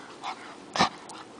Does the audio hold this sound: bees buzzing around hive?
no